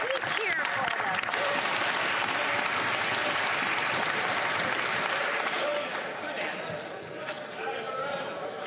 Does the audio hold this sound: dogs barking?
no